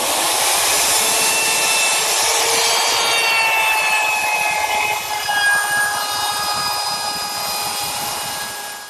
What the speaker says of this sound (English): then I'll sand it all smooth